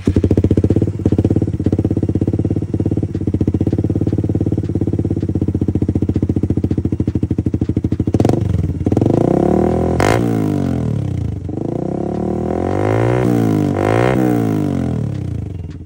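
Suzuki GSX-R150 with an open-pipe Villain carbon full-system exhaust and no silencer, idling loud and steady and then blipped through several sharp revs that rise and fall, close to the bike with no talking.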